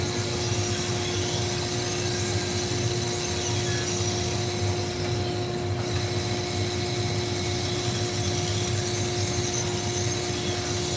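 A belt sharpening machine grinds a knife on a 600 grit belt, giving a continuous even whirring abrasion with a steady motor hum, close and unbroken.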